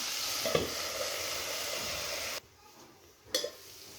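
Bitter gourd, potato and onion fry in a pan with a steady, close sizzle that drops quieter about halfway through, then briefly flares again near the end.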